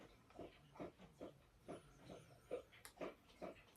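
A dog lapping water from a bowl indoors, quick rhythmic wet laps repeating about twice a second, faint and close, with no talking.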